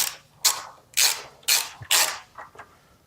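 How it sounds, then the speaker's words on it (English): A ratchet wrench with a 7/16 socket tightening breather bolts on a Harley-Davidson Road Glide, four steady clicking bursts about half a second apart, then two softer ones, close and clear with no talk. "now I'm going to go ahead and tighten up these breather bolts with this 7/16 socket here"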